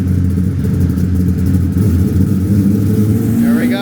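A V10-swapped Lincoln Continental on a dyno during a power pull gives a loud, close, steady engine drone with a deep rumble, climbing in pitch toward the end.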